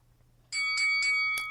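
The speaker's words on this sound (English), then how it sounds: "I totally forgot that the bell was coming." A bell marking the end of a round in a quiz-style movie comparison game, several quick bright rings in a rapid series after a moment of quiet, loud and close, ending abruptly.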